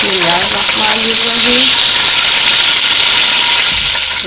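Cardamom, cinnamon and cloves sizzle loudly in hot oil for a korma, a close, dense, steady hiss throughout, with a voice briefly heard at the start.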